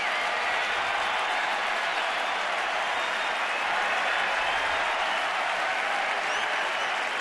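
Fans at the Nationals home opener stand and applaud, a continuous wash of clapping and crowd cheer holding a strong, even level from start to finish.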